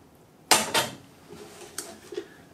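Teaware clinks as two batches of milk oolong tea leaves are rinsed: two sharp ceramic knocks in quick succession, then softer pouring and a few light clinks, close and with no talk.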